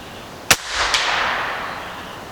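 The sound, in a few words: Netvor 458 big bore air gun shots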